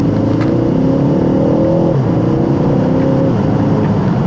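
Ford Focus ST hot hatch engine revving, loud and close, with a steady strained drone that climbs in pitch, dips briefly near the midpoint, then climbs again.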